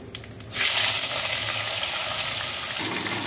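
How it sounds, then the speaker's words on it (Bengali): Pointed gourd and potato pieces hit hot oil seasoned with black cumin and dried chilli, bursting into a loud, steady sizzle after a brief quieter moment that holds to the end. "এবার আমি পটলগুলো আলুগুলো সব একসাথে করে ভেজে নেব"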